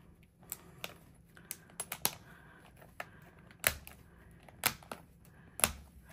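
Sharp plastic snaps and clicks of planner covers snapping onto discs, a dozen or so at irregular intervals, close by, with a few louder pops standing out near the end.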